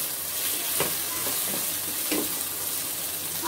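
Vegetables stirred in a pan with soy sauce, salt and black pepper, giving a quiet steady sizzle with several soft scrapes and taps of the utensil.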